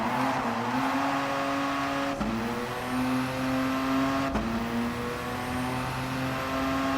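The RE Amemiya Mazda RX-7 FD3S races a time-trial lap at Tsukuba in Gran Turismo Sport, its engine note climbing steadily, dropping sharply at two gear shifts, then climbing again, loud and continuous with no voices.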